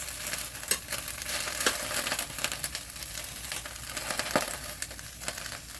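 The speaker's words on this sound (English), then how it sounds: "I normally like to cook up my garlic on the bottom of the pot, like this." Garlic fries at the bottom of a pot alongside vegetables, giving a steady broadband sizzle with scattered sharp crackles and occasional stirring scrapes, close and fairly loud throughout, with no one talking.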